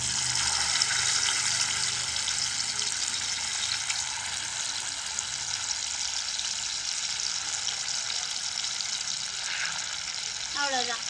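Oil sizzling on a hot stone pan, a steady bright hiss that fills the whole stretch at moderate level, with a faint extra crackle near the end and no talk.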